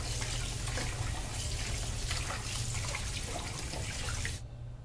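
Foxtail millet grains being rinsed in water to wash off the husk, a steady splashing, sloshing wash of water that cuts off abruptly near the end.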